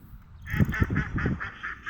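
Ducks or geese call at Ernie's Reserve in New Zealand, a close series of about seven quacking honks in a regular rhythm after a quiet start.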